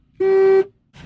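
A worn-out old car's horn sounds off on its own in one loud, close, steady blast lasting under half a second, followed by quiet and then faint low rumble.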